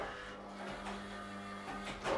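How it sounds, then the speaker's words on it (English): The spindle motor of a CNC-converted 7x12 mini lathe runs slowly at 125 RPM, a faint steady low hum with soft mechanical whirring and a few light clicks, heard without talk. "So I'll give it a command of S125, which is 125 RPM, and M3,"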